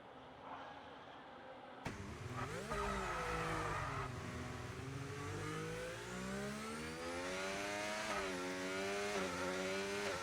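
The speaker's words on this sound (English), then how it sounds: "Oh! And Avo spins it." An F1 race car in the F1 25 video game at the Qatar circuit spins out. The engine revs, the pitch rises and falls as it slides, and the tyres squeal, loud and continuous.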